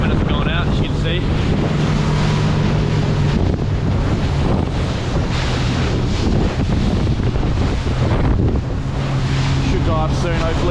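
A small fishing boat heads out through ocean swell, its engine droning loud and steady under heavy wind buffeting, with water rushing and slapping against the hull throughout.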